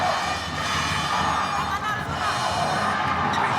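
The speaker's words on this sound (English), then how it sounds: "Great crowd in attendance this afternoon here in Qingdao." Large home crowd cheering and roaring at a badminton team final between China and Indonesia in Qingdao, a steady loud wash of voices that fills the whole stretch.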